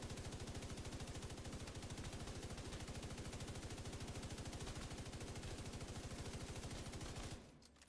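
Sustained rapid automatic gunfire from a gun in a video game, a steady, evenly spaced stream of shots holding at constant loudness for several seconds before stopping suddenly.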